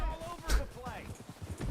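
Horse hooves clip-clop in Red Dead Redemption 2, a few uneven hoof strikes mixed with game voices and talking that dominate over them.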